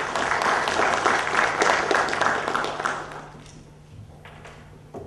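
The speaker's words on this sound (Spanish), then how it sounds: "Por favor, un fuerte aplauso para el doctor José Luis Silvestre Cortés." An audience at a Spanish-language diploma lecture greets a doctor with applause, a dense burst of many hands that stays full for about three seconds and then thins and fades over a low steady hum.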